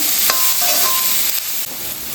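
Onions sautéing in a pan while being stirred, a steady bright sizzle with scraping stir strokes running throughout, close and continuous, no voices.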